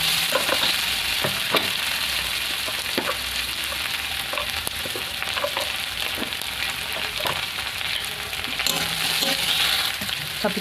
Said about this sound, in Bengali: এবার দেবো রসুন, এই আদাটাকে একটু হালকা করে নেড়ে নেবো।